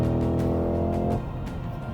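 A Cadillac CT5-V Blackwing luxury sedan with a 668-horsepower V8, its engine droning loudly and steadily, then the note drops and softens partway through as the revs fall away.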